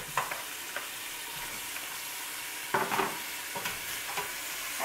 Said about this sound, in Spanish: La vamos a poner a que se fría un poco.